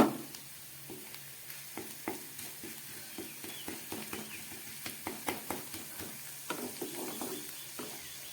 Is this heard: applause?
no